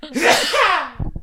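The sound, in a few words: sneeze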